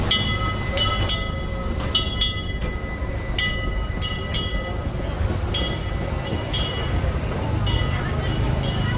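The Disneyland Railroad train rolls past with rhythmic clicking wheels and a low rumble, while repeated sharp bell-like rings sound over the steady noise.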